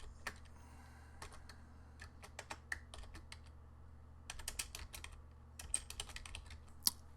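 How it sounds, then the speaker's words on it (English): Close computer keyboard typing a title in a desktop publishing program: a quiet, uneven run of soft key clicks over a low steady hum, tapping in small bursts with short pauses and no talk. "I can then type a title."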